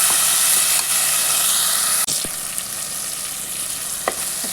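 Tomatoes fry in a hot pan with ginger-garlic paste and onion for egg biryani, a loud close continuous sizzle and hiss broken by a few stirring knocks against the pan.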